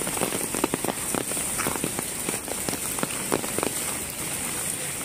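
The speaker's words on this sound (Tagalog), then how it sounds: "Kagabi pa yata ito na ulan eh." Heavy rain pours steadily onto surfaces outdoors, a dense continuous hiss dotted with sharper drips and spatters, loud and unbroken throughout with no voices.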